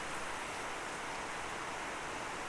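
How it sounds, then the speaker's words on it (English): Rain pouring steadily during the Costa Rica rainy season, a dense unbroken hiss that fills the whole stretch with no voices. "It's raining."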